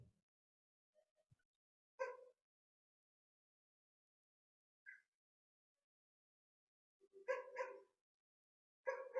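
A dog barks in a few short, separate bursts, faint and somewhat distant, with long quiet gaps between the yaps and no talking.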